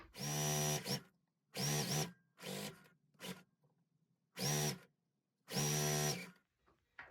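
A sewing machine stitches two scrappy fabric pieces together in short motor bursts of about a second each, six runs separated by brief quiet pauses, close and clear.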